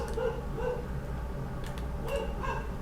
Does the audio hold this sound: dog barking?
yes